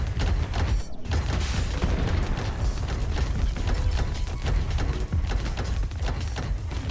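Grenade blasts in the strategy video game Rogue Command, a dense, continuous barrage of overlapping booms and crackling bursts, loud throughout.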